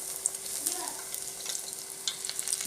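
Aval and gram-flour thattai frying in oil while a ladle pushes them along and splashes oil over them, a soft continuous crackling sizzle with light scraping touches, fairly quiet and steady.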